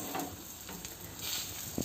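Fish fries in oil in a pan, giving a soft, steady crackling sizzle heard close but faint, with no talk over it.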